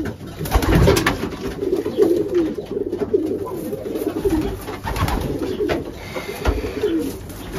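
Pigeons cooing during selection of young racing birds: repeated low soft throaty coos from several birds close by, overlapping continuously with occasional wing flutters and handling noises in the background.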